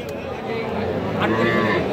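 Cattle at a market selling young bull and heifer calves, with a low moo rising amid busy crowd chatter and background noise.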